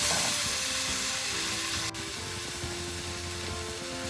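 Onion and tomato chutney cooks in a pan, a soft, even sizzle and hiss running throughout, faint and close, with a slight dip partway through.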